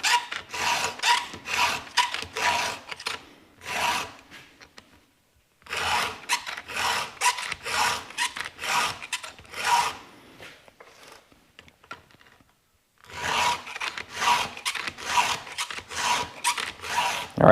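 A chainsaw chain is sharpened with a Stihl 2 in 1 file sharpener, giving close, rhythmic metallic rasping in quick repeated strokes, grouped into bursts separated by short pauses, with no talking.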